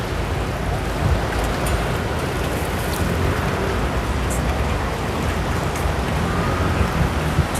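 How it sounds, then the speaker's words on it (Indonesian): Steady rain falls in an even, unbroken hiss with no voices, filling the whole stretch at a moderate, constant level. "Hari ini hujan."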